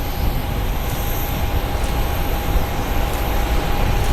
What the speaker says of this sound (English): Look how long he's on the reversers.